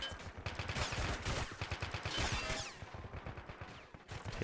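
Heavy exchange of gunfire in a Modern Warfare battle game, with rapid overlapping shots and bursts pulsing through a busy, loud battlefield mix.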